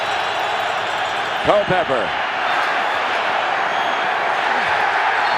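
Large football stadium crowd at the Vikings–Giants 2000 NFC Championship roaring continuously, a dense far-off wall of noise with a commentator briefly speaking over it.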